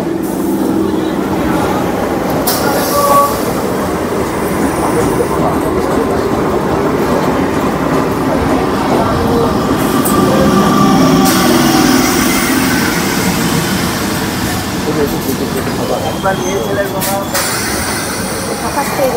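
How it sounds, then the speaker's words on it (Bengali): A Hasnabad local train pulling into a station, its steady rolling rumble and wheel clatter loud and continuous, with people talking on the platform underneath. "আর আমাদের ট্রেন হাসনাবাদ লোকাল কিন্তু এখন ঢুকে গেল।"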